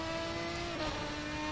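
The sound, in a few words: Ferrari 550 GT1 engine in video game GTR2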